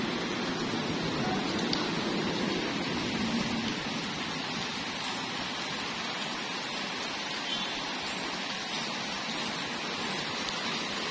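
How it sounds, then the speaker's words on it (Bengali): Steady rain falls outside a window, a continuous even hiss of drops with no break or change in loudness, and no voices. "বৃষ্টি পড়ছেই পড়ছেই, বৃষ্টি তো হতেই আছে।"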